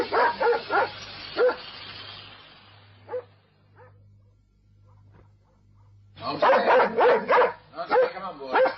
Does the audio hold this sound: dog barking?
yes